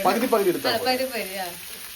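Karimeen pearl spot fish fry in a hot pan, a soft sizzle under a person talking close by that fades toward the end.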